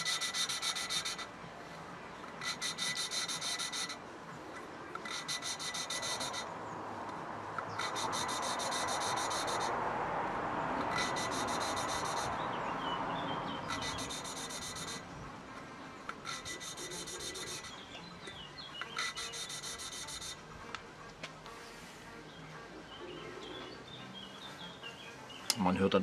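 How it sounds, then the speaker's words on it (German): Engine valves from an Opel Astra H are hand-lapped with grinding paste, giving a rhythmic gritty rubbing in regular back-and-forth strokes, close and fairly quiet against a constant hum. "Man hört dann am Schleifgeräusch."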